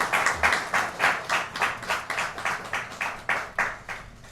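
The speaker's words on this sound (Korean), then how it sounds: "전달해 주실 때 뜨겁게 박수 부탁드립니다." Church congregation applauding warmly as a white lily is presented at a Sunday morning holiness church service, steady rhythmic clapping from many hands filling the room without speech.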